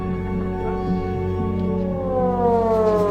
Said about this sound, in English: I had to move this meeting down here to this shelter because air sirens went off.